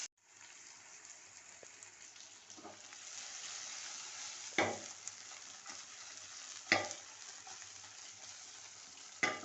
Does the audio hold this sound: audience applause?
no